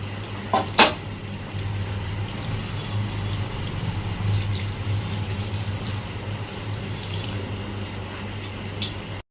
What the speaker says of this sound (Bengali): এর মধ্যে আমি অল্প সরষা ধোয়া যে জলটা আছে ওটা দিয়ে দেব